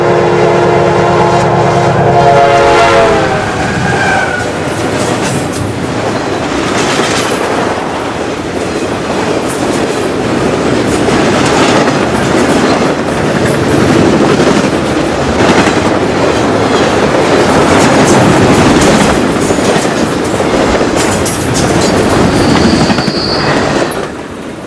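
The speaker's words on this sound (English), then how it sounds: "Every afternoon, UPS trains leave Duval in all directions." A CSX freight train hauling time-sensitive UPS traffic rolls past in Jacksonville, loud and close, with a horn blast at the start, steady clattering wheels and rumble throughout, and brief high squeals near the end.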